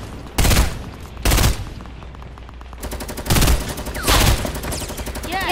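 Loud bursts of gunfire in a Fortnite match, with two sharp shots early followed by a rapid rattling stream and two more heavy blasts, close and dominant with no talk.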